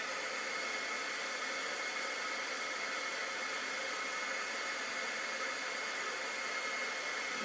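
A craft heat tool for card embossing blows with a steady, even whoosh like a small hair dryer, running close and unbroken for the whole stretch without talk.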